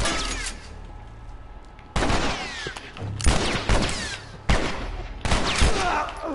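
Gunfire in The Last of Us game crackles in several loud, close bursts, sharp volleys separated by brief lulls, with faint voices underneath.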